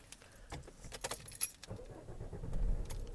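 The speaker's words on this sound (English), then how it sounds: "So I take my keys," Car keys jangling and clinking as a key is pushed into the ignition inside a parked car, a close, quiet run of metallic rattles with no talk.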